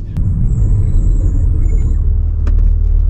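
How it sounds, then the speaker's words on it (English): Brake squeak from a BMW M3 Competition G80 while driving: a thin, high-pitched squeal lasts about two seconds over a loud, steady low engine and road rumble inside the car. "the first thing you'll notice is a brake squeak"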